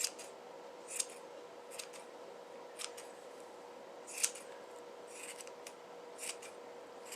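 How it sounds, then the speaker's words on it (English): Large yarn scissors snip through yarn in a series of crisp, quiet cuts spaced irregularly, close up over a soft background hiss, with no voices. "That's why I'm using my my bigger yarn scissors, and I'm not using my little embroidery shears."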